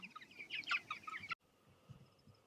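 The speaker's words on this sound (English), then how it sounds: "Hey, chicken birds." Chickens cluck in a pasture as a short burst of bright, close clucks and calls that stop abruptly, followed by quiet outdoor ambience with faint low rustling.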